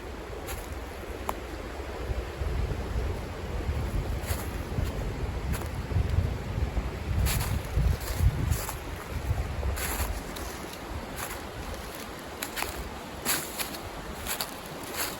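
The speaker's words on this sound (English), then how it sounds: "Sorry if it's hard to hear me. Got the river blazing on both sides." A river rushes past on both sides of an island campsite on the Catawba River, with steady broadband water noise and gusty wind buffeting the microphone, occasional sharper splashes or gust bursts breaking through, no talking.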